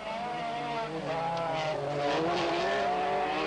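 Rallycross race cars come in with a continuous engine drone, their pitch bending as the cars shift and accelerate close by, loud and without any talk over them.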